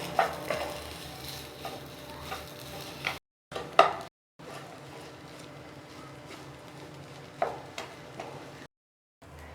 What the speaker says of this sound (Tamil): இப்போ இதை நல்லா கலந்துக்கலாங்க.